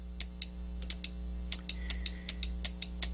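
An ESD test instrument firing 8 kV discharges into a laser diode absorber clip, a string of short sharp snaps about a dozen over a few seconds, each paired with a thin high electronic beep, over a steady low hum.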